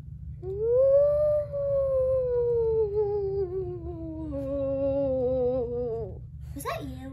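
A person imitates a wolf howl with a long, rising-then-falling wavering vocal tone, followed by a second drawn-out howl and a brief breathy burst at the end, close to the microphone over a steady low background hum.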